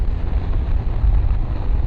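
Loud, rumbling wind buffets a motorcycle helmet on a moving BMW R1250R, a continuous low roar with no pauses.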